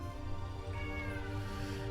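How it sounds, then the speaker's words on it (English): A house cat gives a faint, drawn-out meow under a steady humming, buzzing background indoors. "What do you want, cat?"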